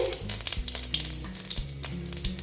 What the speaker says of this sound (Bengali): তেলটা গরম হয়ে গেছে এবার আমি ফোড়নে দিচ্ছি জিরে